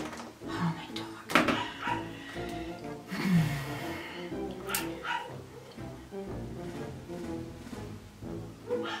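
Several dogs bark and yip in a busy indoor room, sharp bursts scattered over several seconds and mixed with a woman's speech and household noise.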